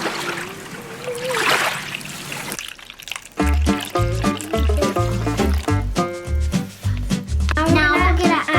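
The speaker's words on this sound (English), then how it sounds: "Now I'm going to add a water inside this bowl." Water poured into a bowl for a kids' volcano project, a short trickling splash near the start, followed by loud music; a voice is heard around the pour.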